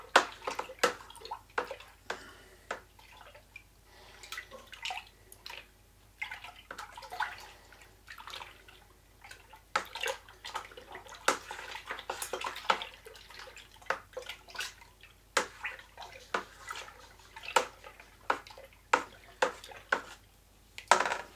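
Cider mixture being stirred in a container, a long run of wet sloshing, swirling and splashing with irregular knocks against the vessel, fairly close and continuous throughout with no talking.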